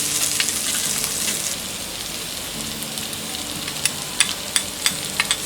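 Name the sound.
vegetables frying on a low flame for millet upma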